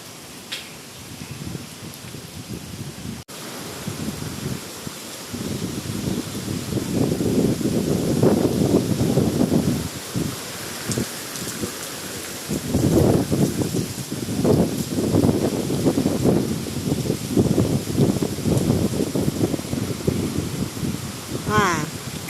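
Strong typhoon wind under a Signal No. 9 warning gusts through the trees of a back garden, a loud, continuous roaring rush that surges and eases, with voices talking intermittently over it.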